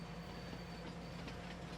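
A train rolls along the track in Farming Simulator 19, a low steady rumble with a faint high whine and light rhythmic clicks, continuous and moderately quiet with no talking.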